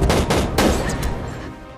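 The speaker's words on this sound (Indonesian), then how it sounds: "Dengan sebuah tembakan jitu," A single sharp sniper rifle shot in an action film rings out with a loud crack, followed by quick echoing bursts that decay over the next second.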